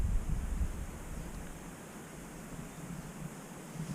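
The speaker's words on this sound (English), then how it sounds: "Wind's starting to get up a little bit." Wind picks up outdoors at a winter fishing session on Ten Mile Bank. It makes a low, continuous rush and buffeting against the microphone, strongest at first and then settling into a steady hiss.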